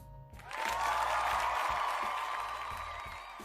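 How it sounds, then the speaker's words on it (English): Brief applause from a small group rises quickly and holds as a soft, dense patter of claps, fairly quiet and alone, during a podcast conversation. "that's claps for both of us"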